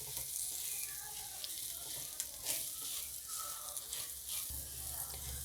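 Green chillies sauté in a pan with salt, turmeric, dry mango powder, red chilli and gram flour, giving a soft, continuous sizzle with light stirring scrapes, fairly quiet and without talk.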